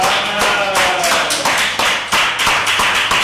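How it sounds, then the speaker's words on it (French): A church congregation bursts into applause during a French-language sermon, a dense, steady wash of many hands clapping loudly and continuously throughout, with no speech over it. "Ça mérite applaudissement."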